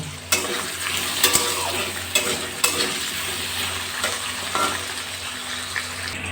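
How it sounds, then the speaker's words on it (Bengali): Potatoes seasoned with salt and turmeric fry in a pan for a soybean and potato curry, a soft steady sizzle broken by several sharp scrapes and clinks of a spoon stirring against the pan. "আলুগুলো ভাজা হচ্ছে"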